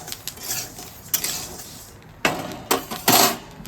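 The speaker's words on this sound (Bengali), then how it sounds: "কড়াই থেকে এই থালায় ঢেলে নেবো আমি" Fried rice grains are tipped from a metal wok onto a plate, making close, sharp metallic scrapes and clanks in irregular bursts, with a few louder knocks near the end.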